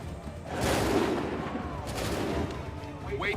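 Soldiers in Assassin's Creed 3 loose a loud musket volley, a crackling burst of many shots near the start and another wave a second later, with faint shouting mixed in.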